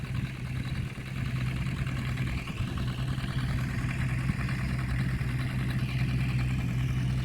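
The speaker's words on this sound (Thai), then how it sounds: "ใส่รถไถไถดุนเก่าครับพี่น้อง" A walk-behind tractor plows an old rice paddy, its single-cylinder engine chugging steadily at a moderate distance, with a continuous mechanical drone and light clatter that holds throughout.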